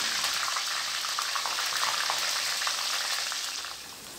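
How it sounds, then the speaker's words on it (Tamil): Peanuts frying in hot oil for a homemade crunchy mixture snack, giving a steady, dense sizzle that holds close and even throughout and fades slightly at the end, with no talking. "வேர்க்கடலை அதையும் எண்ணெயில் வறுத்துட்டு சேர்த்துக்கலாம்."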